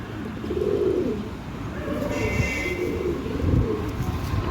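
Andra pigeons cooing nearby in soft, rolling low calls that repeat throughout, with faint background noise.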